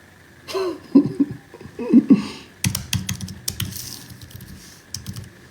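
Computer keyboard typing, a quick run of close, sharp keystroke clicks in irregular bursts, preceded by a few soft throat-clearing sounds and bits of voice.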